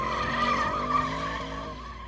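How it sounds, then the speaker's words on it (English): Tyres spinning and squealing at the start of a drag race between an Audi RS7 and a Mercedes-AMG GT 63 S 4-Door, a sustained high screech heard up close and loud with no talk over it. "Oh my God, he's just absolutely nuked his tyres."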